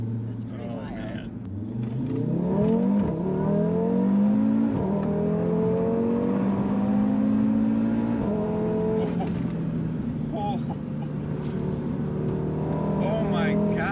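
A 600+ hp Audi RS3 on winter tires accelerating hard from highway speed, a steady loud engine drone rising in pitch through the gears, heard from inside the cabin with occasional talk over it.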